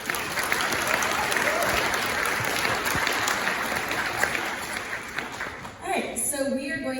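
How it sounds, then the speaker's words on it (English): Sustained audience applause fills the room for a group of returning members, steady dense clapping that ends with a brief voice-like sound near the end. "let's give them a round of applause for that"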